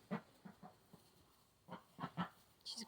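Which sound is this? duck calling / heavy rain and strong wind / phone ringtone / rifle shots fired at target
duck calling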